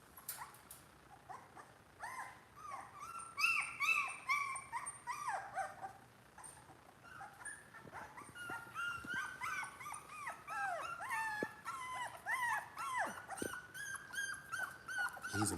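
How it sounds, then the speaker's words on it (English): Four-week-old puppies whimper, whine and yip almost continuously, high-pitched and close, with overlapping cries and a few short barks. "Updates on the Old Yeller puppies, man."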